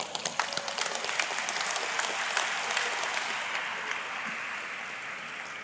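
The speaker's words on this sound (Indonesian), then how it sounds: "Jadi kita berikan aplaus sekali lagi ya." An audience at a university public lecture gives sustained applause: a dense, even patter of many hands clapping that stays steady before tapering slightly at the end.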